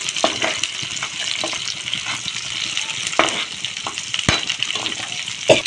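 Fish and green chillies sizzling in a pan as they are stirred, a steady frying hiss with scattered scraping clicks of the utensil, close and moderately loud.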